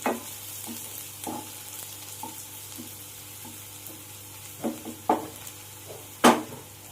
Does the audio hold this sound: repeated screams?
no